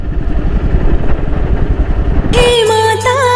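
A motorcycle engine idles with a loud, rough chugging clatter near a crowded Navratri temple gathering, then cuts off abruptly as tonal music takes over for the final second.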